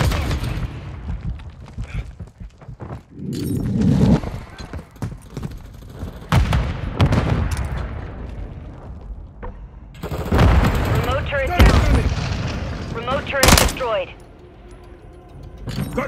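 Gunfire in Call of Duty Modern Warfare III Kill Confirmed multiplayer: bursts of automatic fire and shots mixed with game radio voice lines and other battle noise, loud and close throughout.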